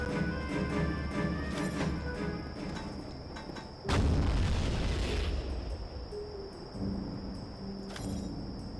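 A rocket launcher explosion in the PC game Soldier of Fortune sounds as one heavy, booming blast over a constant hum of game audio and scattered gunfire, followed by a lingering rumble.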